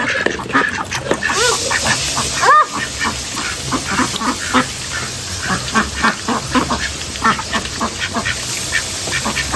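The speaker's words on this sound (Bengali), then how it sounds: "এই যে একটা হাঁস এখানে দাঁড়ায় আছে।" Scattered duck quacks over a steady hiss of background noise, with light movement sounds throughout.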